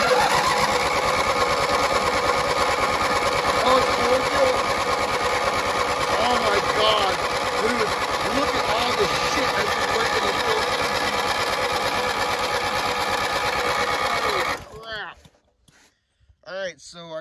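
A snow mower's small engine cranks and sputters at length in a fast, rattling rhythm, loud and close, then cuts out near the end with a few faint noises after.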